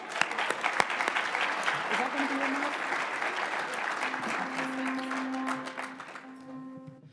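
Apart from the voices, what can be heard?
audience applause for Tahara Memory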